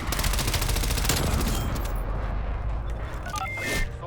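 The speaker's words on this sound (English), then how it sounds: "It's shotgun time." Shotgun fire in a first-person shooter video game: dense, rapid blasts crowd the first second and a half, then heavy gunfire continues more loosely to the end, loud and close.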